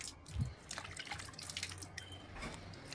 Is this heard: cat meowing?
no